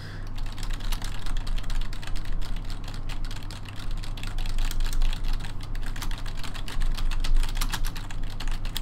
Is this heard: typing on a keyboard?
yes